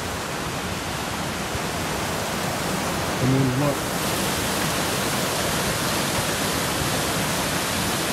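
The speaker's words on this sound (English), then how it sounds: "here's more of Silver Creek" Silver Creek rushing beneath a bridge, a loud broadband roar of fast water that is constant and near, with a brief spoken phrase partway through.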